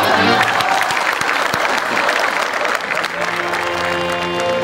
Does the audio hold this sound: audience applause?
yes